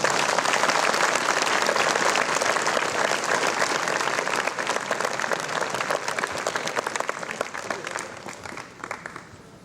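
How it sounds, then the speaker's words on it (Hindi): An audience applauds after a dance drama performance honoring Fr. John Deeney, dense loud clapping filling the hall and then thinning and fading toward the end. "आइए उनके अद्भुत प्रदर्शन के लिए जोरदार तालियों से बधाई दें।"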